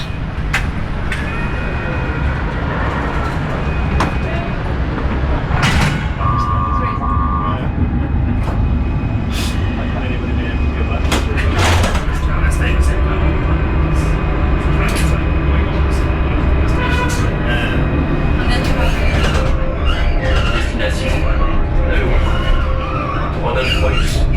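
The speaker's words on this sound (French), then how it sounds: "Ah cool, il y a les tramways." Trams running through central Strasbourg near Place de l'Homme de Fer, a steady rumble of rail traffic with brief high squeals and tonal whines, mixed with street noise and passing voices throughout.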